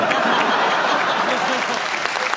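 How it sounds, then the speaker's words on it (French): Audience applause, a steady burst of clapping from a crowd lasting a couple of seconds, fairly loud and continuous throughout. "Ça s'applaudit"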